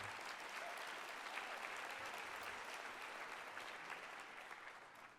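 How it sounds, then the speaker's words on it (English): Audience applause fills an event hall at a mayor's State of the City address in Cleveland, a dense, steady wash of many hands clapping that holds at an even level throughout. "That deserves a round of applause."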